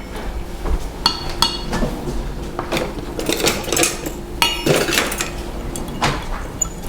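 A long fork stirs honey mustard dip in a bowl, giving a run of irregular clinks and scrapes against the bowl, fairly close and steady throughout, with no talking.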